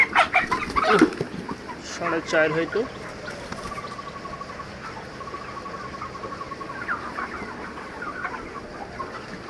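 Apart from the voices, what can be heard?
chickens and roosters clucking on a farm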